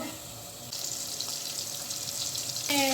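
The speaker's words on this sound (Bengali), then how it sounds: "এখন এই লবণ আর হলুদ মেখে চিংড়ি মাছটা ভেজে নেব" Shrimp coated in salt and turmeric frying in hot oil, a steady loud hiss and sizzle that jumps up partway through and stays dense, with a brief sharper clatter at the end.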